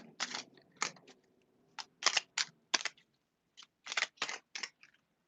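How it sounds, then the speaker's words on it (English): Decks of tarot cards being shuffled give crisp riffling and slapping bursts in irregular groups, close and quiet, with short pauses between shuffles. "I'm going to just shuffle all my decks."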